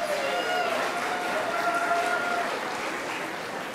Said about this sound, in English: Let's give Ms. Hope, Ms. Wallace, and their awesome superstars a great round of applause.